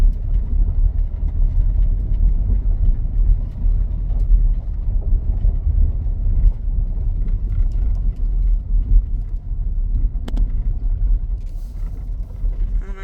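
A car rolls along a gravel back road across open Montana prairie, a steady low engine rumble and tyre noise heard from inside the vehicle, with occasional small knocks and rattles.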